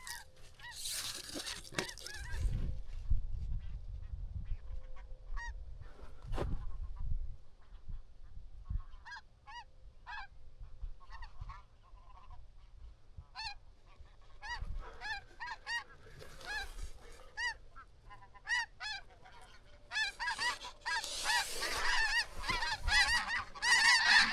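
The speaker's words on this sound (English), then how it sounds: "More snow geese." A flock of snow geese honks repeatedly, with many overlapping calls from birds near and far that grow denser and louder toward the end.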